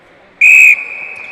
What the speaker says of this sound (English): My whistle.